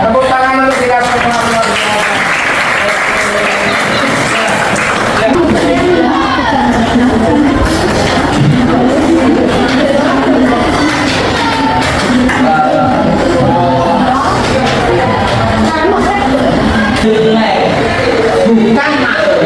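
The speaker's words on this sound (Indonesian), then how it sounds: "Tepuk tangan untuk kita semua" Students at a new-student school orientation applaud loudly in a dense, continuous wash of clapping mixed with shouts and cheers, with voices running throughout.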